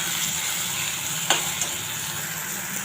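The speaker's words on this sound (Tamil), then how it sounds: "இதை போட்டு நல்லா வதக்கணும்." Curry leaves and salt sauté in a hot pan, a continuous close crackling sizzle broken by a single short scrape of stirring, with no voices.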